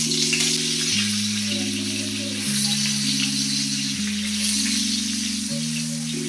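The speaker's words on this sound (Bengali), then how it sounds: "আলু ভাজাটা হয়ে গেছে" Salted potatoes frying in three tablespoons of white refined oil produce a continuous close sizzle beneath steady background music.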